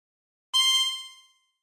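A single harmonica note blown into hole 7 rings out clearly and close, a bright reedy tone that fades over under a second, alone in silence.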